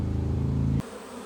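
Honeybees buzz loudly at an opened hive with an unusual corn-cob-shaped comb, a close, steady drone that cuts off abruptly partway through.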